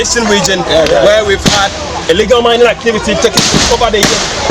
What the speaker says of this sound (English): that is the sound of gunshots fired by the police